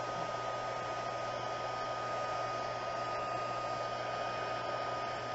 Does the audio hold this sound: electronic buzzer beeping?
no